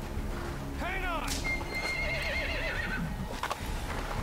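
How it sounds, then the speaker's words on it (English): A horse in the video game Metal Gear Solid 5 whinnies with a rising, wavering call, then neighs again, over steady background noise and a few brief clatters near the end. "He's just riding a horse around the fucking hospital?"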